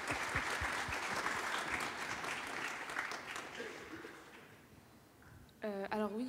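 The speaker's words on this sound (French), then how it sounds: "On peut vous applaudir." An audience at a round-table event applauds, a dense burst of clapping that slowly thins out before a voice starts speaking near the end.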